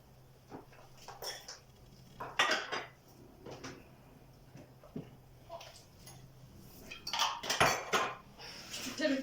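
Dishes, pots and cutlery are washed by hand at a home kitchen sink, with scattered clinks and clatters that come in bursts, close and moderately loud, and brief murmurs of speech between them.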